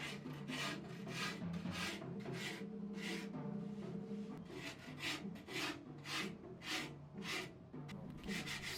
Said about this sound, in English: So initial sanding